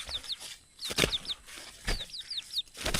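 A chicken perched on a person's shoulder flaps its wings in several quick bursts, with short high squeaky clucks scattered between the flurries, close by.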